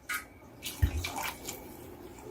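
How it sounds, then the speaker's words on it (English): Warm water poured into a cooking pot of black-eyed peas soup, a short close splash and trickle with a soft thud, heard alone. "I'm gonna add a little bit more warm water to the pot"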